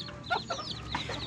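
Chickens and ducks in a backyard farm flock cluck in short, repeated bursts at close range, a steady low farmyard hum running underneath without any talking.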